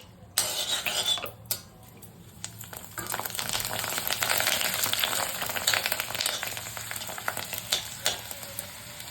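Chonga chips fry in hot oil with a loud, bubbling sizzle that swells and stays busy, punctuated by sharp stirring clatters near the start and end, with no talking.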